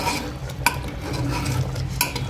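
A spoon scrapes and stirs potatoes into a mango and drumstick mutton curry inside a metal pot, with two sharp clinks against the side over a low background hum.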